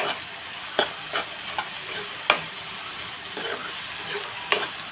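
Onions frying in a pan with turmeric and salt, stirred with a spoon: a continuous sizzle broken by several sharp scraping clacks of the utensil against the pan, close and without speech.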